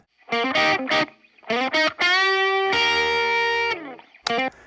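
A solo singing voice pitch-corrected with Melodyne, with a smooth, processed, slightly robotic tone, phrases rising and gliding between notes, with short pauses between them.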